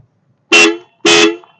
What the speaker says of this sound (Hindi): तो आप आवाज सुन सकते हैं कि डुअल टोन हॉर्न्स ये मिंडा के ही हैं,